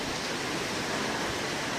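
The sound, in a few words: heavy rain falling outside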